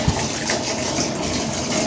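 Water gushes steadily from a pipe into a bucket used for keeping fish, a continuous close rushing and splashing with no pauses.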